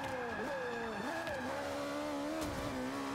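A race car in a racing video game holds a loud, steady engine drone, its pitch rising and dropping through gear changes as it accelerates, with faint tire noise and no speech.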